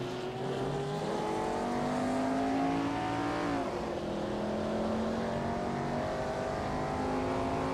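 Vintage race cars in a racing video game scream around a tight, winding circuit, one loud engine droning steadily with a gear change and rising revs throughout, a continuous close roar with no speech.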